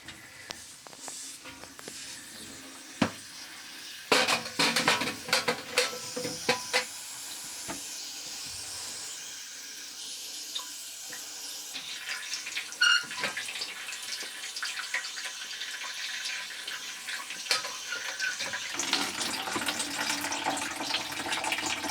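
A pipe slice cuts into the lowest section of a household water pipe while fitting an outside tap, followed by water hissing and trickling out as it drains, a steady close hiss with scattered clicks and knocks.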